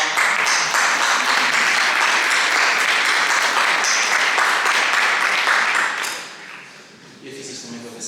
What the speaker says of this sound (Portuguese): uma pequena salva de palmas